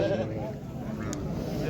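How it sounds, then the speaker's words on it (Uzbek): Sheep, long-bodied rams and ewes, bleat at a livestock market in Qarshi amid crowd noise, with people talking close by over a continuous background din. "Mana shu uzun qo'chqorlar qo'ylar bilan sog'liqlar."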